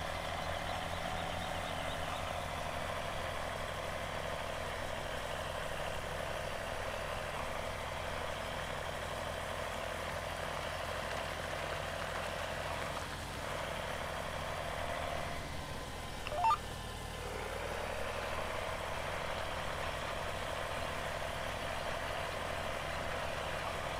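A John Deere tractor from the Old Iron Pack idles steadily in Farming Simulator 17, a continuous low engine drone with a faint high whine and one brief clunk partway through, no voices.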